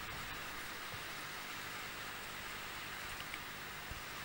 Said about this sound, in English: Hopefully this will be a passing shower.